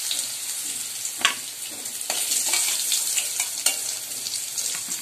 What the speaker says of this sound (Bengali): নুন হলুদ যে আলুগুলোকে ভেজে নিচ্ছি, এটা একটুখানি ভালো ভাজা হবে